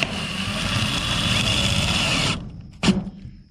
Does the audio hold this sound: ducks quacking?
no